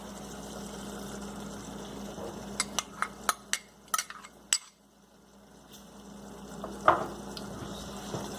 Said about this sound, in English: Now I'm going to add corn.